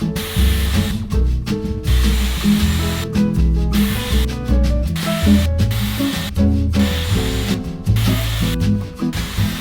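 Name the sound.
texture spray being sprayed onto hair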